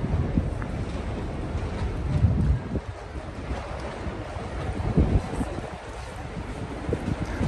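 Strong wind buffeting a microphone outdoors in Copenhagen, a continuous rumbling roar with gusts swelling and easing, loud and close, no voices heard.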